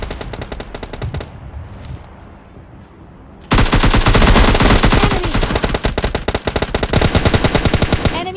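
Gunfire from an AKM and an S12K shotgun in PUBG Mobile Lite: a few scattered shots over quiet game ambience, then a loud, sustained burst of rapid automatic fire lasting several seconds with shots overlapping.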